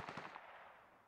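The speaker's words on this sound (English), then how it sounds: "Oh, with gunshots." A quick burst of several rapid gunshots in the video game SCUM, faint and slightly distant, with a short fading tail afterward.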